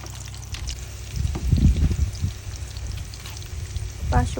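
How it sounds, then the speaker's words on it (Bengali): Chicken kofta balls fry in hot oil with a steady close sizzle, swelling into denser bubbling bursts midway and again near the end, with no talking over it. "সবগুলো এখন ভেজে নিব।"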